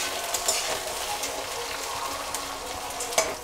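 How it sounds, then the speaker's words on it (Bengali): Green beans fry lightly in oil in a pan for mixed fried rice, making a close, crackly sizzle. Soft stirring scrapes and a couple of sharp taps sound over it, with no voices. "বিনসটাও হালকা করে একটু ভেজে নেব"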